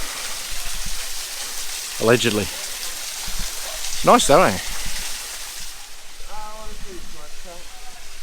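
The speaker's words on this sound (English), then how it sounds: "this is another waterfall area" A waterfall along a walking trail gives a steady background rush under a few short spoken remarks, then the water noise drops away near the end.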